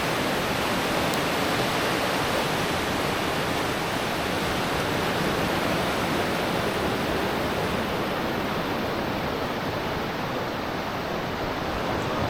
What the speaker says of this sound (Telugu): ఒక్కసారి ఆ బీచ్ వ్యూని, ఆ సౌండ్స్ని వినండి ఎంత బాగున్నాయో.